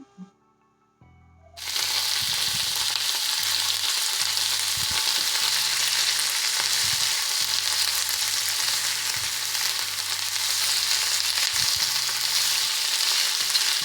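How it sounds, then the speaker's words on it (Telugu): Marinated chicken pieces frying in hot oil with mustard seeds and chopped onion, a loud steady sizzle that bursts in after a quiet start and runs on, with faint scrapes of stirring underneath. "ఆయిల్ వేసుకొని హీట్ అయ్యాక ఆవాలు, కట్ చేసి పెట్టుకున్న ఆనియన్, ఆల్రెడీ మ్యారినేట్ చేసుకున్న చికెన్ పీసెస్ని వేసుకొని బాగా కలుపుతూ ఫ్రై చేసుకుందాం"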